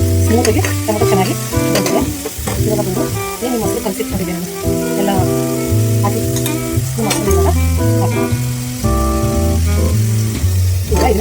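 Chopped tomato sizzling in hot oil for a vegetable soya chunks pulav, stirred steadily with a spatula scraping the pan, loud and continuous, with background music playing throughout.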